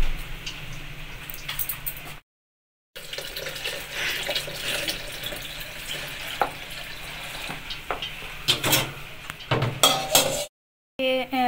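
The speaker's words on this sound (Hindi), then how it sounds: "मामा यहाँ पे पकौड़े का जो बैटर है वो रेडी कर रही हैं" Pakora batter is stirred and mixed in a bowl in a home kitchen, wet sloshing and scraping strokes close by, with brief pauses and a few sharp clinks.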